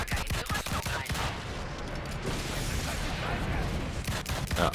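Rapid bursts of gunfire in the PC video game Evolve crackle and boom in a dense, continuous barrage at a monster, loud and close, with faint voices mixed underneath.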